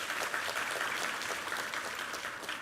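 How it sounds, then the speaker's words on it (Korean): A congregation at a Sunday church service applauds together, and the clapping comes across as a steady, fairly faint roar of many hands that eases off slightly toward the end. "우리 하나님께 감사와 영광의 박수 올려드리겠습니다"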